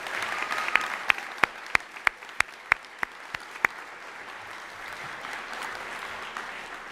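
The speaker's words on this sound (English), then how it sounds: "So I'd like to give a round of applause to all of our students here for that." Sparse applause at a school recognition ceremony for students: about a dozen distinct, fairly sharp claps in a quick steady run over low room noise, then fading into quiet murmur.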